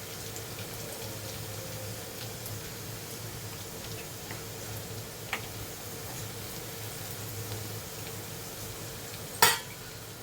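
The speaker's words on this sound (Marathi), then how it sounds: "तर लसूण शिजतंय." Garlic fries in a pan with a soft, steady sizzle under a low hum, broken by a faint clink and a sharp utensil knock near the end.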